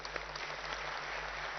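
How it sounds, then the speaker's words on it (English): Audience applause at a Telangana Mobility Valley event with the minister, a faint, even, distant wash of clapping lasting under two seconds with a low steady hum beneath it. "I think it deserves a bigger round of applause"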